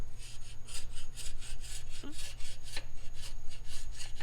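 A carbide scraper scrapes a gasket surface clean in quick, regular strokes, a rhythmic rasping rub repeating about four times a second, close and fairly loud over a low steady hum.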